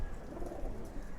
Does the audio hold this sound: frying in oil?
no